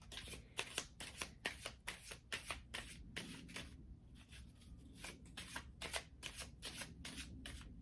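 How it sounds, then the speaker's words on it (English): A deck of Divine Mother rune cards is shuffled close by in quick repeated riffles, crisp papery bursts coming in a steady rhythm with a brief pause midway. "We'll get one of the Divine Mother runes, my Almine's deck."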